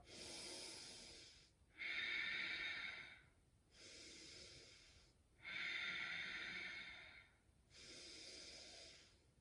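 Slow, deep yoga breaths drawn through the nose, alternating long airy inhales and exhales in a steady rhythm, close and fairly soft, with no talking.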